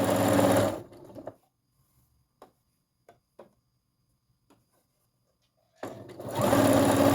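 A sewing machine stitches a fabric hem band for a baby blanket, running loud and steady at the start, falling quiet with a few soft clicks, then starting up again near the end.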